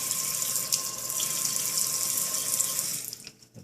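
Tap water runs steadily into a sink as Florida lobster tail meat is rinsed, a close, continuous splashing hiss that cuts off abruptly near the end.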